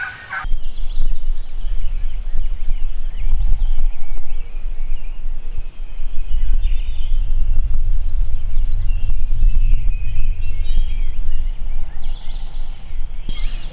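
A wild turkey tom gobbles outdoors in repeated bursts, fairly loud against rustling and low ambient noise, with other fowl calls mixed in.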